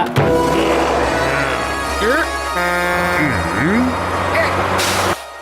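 A cartoon truck's engine rumbles close by while horn-like tones and sweeping electronic effects play over it, ending with a hiss of air.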